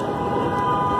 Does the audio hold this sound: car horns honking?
yes